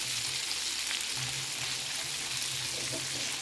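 Pieces of golden-brown fish fry in a pan, giving a continuous, even hiss of sizzling oil, close and steady with no talking.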